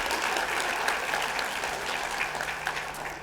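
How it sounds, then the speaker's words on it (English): Sustained audience applause fills a graduation ceremony for the class of 2021, dense steady clapping from a large crowd throughout, with no voices over it. "Let's give them a round of applause first of all."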